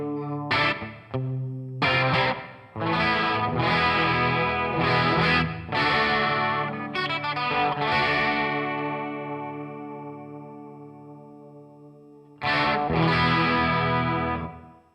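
An electric guitar played through a NUX Mini Core effects pedal blended with reverb, ringing chords in bursts with distorted, chorused tone and long decaying tails between phrases.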